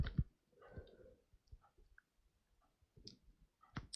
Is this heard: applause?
no